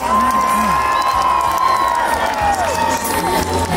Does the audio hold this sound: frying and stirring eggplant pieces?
no